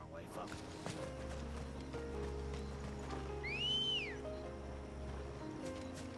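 Horse in Final Fantasy XVI galloping with a continuous clip-clop rhythm, then a clear rising-and-falling neigh midway, over a low droning background.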